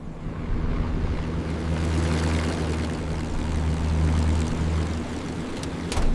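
Mitsubishi A6M Zero propeller fighter descending toward an airfield for landing, a steady loud droning engine and propeller hum holding throughout with a slight swell midway.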